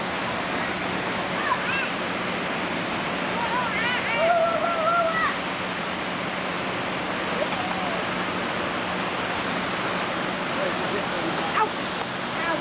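Steady rushing water from a waterfall inside a primate enclosure, a constant broadband roar filling the whole clip, with faint distant voices and a few brief chirps over it.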